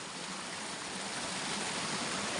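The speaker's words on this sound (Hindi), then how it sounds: "ये नाला और हमारे गांव मुंगरू धारे का पानी है ये, और मुंगरू धारा से यहाँ पर पानी आता है" A small mountain stream runs through a Himalayan village in Uttarakhand, fed by a spring, and gives a steady, close rushing and gurgling of water with no break and no voices.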